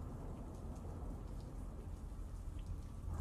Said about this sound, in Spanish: ahí sí que ya empiezas de nuevo a oír la lluvia y la tormenta cuando has abierto el maletero